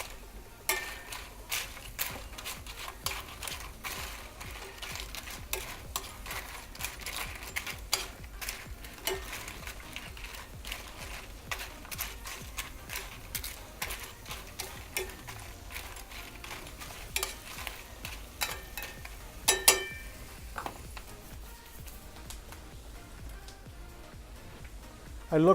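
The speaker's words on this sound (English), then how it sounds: "Now that we have the onions frying up a little bit, I'm gonna throw the chips back in." Onions and tortilla chips frying in a pan for chilaquiles, a steady faint sizzle with frequent scraping and stirring clicks throughout.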